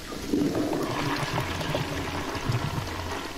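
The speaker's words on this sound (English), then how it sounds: "Now flush that toilet." In the Resident Evil 7 video game, a toilet flushes with a steady rushing, gurgling pour of water that lasts several seconds, close and fairly loud.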